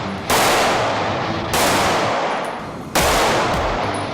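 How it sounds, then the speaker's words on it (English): Pistol shots at an IDPA backup gun national match, three loud, sharp reports spaced about a second and a half apart, each ringing out into a long decay over outdoor range ambience. "triple amputee Andrew Buttrell is shooting his first backup gun national"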